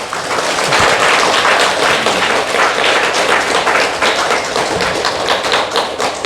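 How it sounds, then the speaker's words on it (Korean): Sustained applause from a seated audience at a Korean Zen meditation retreat lecture hall, dense overlapping claps holding steady and loud throughout, with no voices over it. "예, 그러면 큰 박수로"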